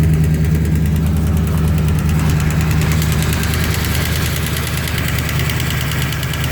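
A Triumph Stag engine idles loud and close, a steady mechanical drone with a fast light tapping from the tappets running through it.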